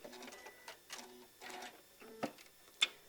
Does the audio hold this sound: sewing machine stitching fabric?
yes